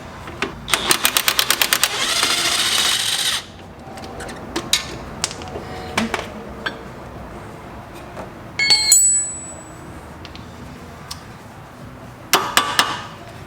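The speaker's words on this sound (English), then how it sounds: "you can kind of just tap out the rest of the bolt there" Metal hammer tapping a bolt out of the suspension of a 1993 Nissan NX2000, heard as a quick run of sharp, ringing taps near the start, then scattered single knocks and clinks, with another short burst of taps near the end.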